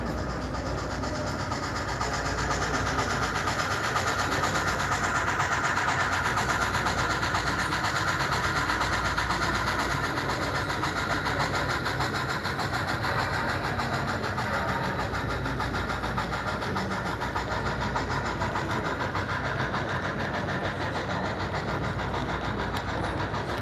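A miniature narrow gauge railroad train runs past close by at a convention layout, a continuous rumbling and rattling roll with faint clicking of wheels over rail joints, steady and unbroken for the whole stretch.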